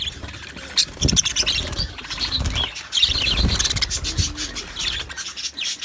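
Budgerigars chirp and twitter busily with soft flutters of wings, a steady lively chatter of small birds close by.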